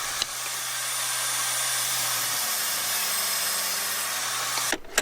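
A table saw cuts an old coffee table top into pallet strips, giving a loud, sustained whining roar that holds steady for several seconds before the blade cuts off.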